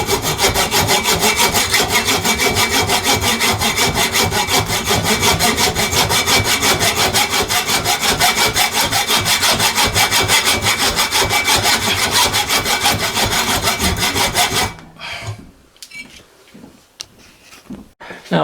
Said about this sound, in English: That's just about where we want to cut them off. And I do that with a hacksaw blade.